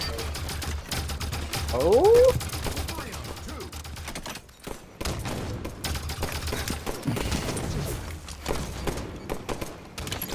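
Rapid automatic gunfire rattles through a Halo 5 Guardians match, dense bursts of shots with a brief pause in the middle, mixed with game effects while a player talks and exclaims over it.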